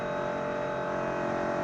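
A race car engine screams at high revs during the closing laps of a 2004 Rolex Sports Car Series race at Daytona, a loud, sustained whine that holds steady without voices.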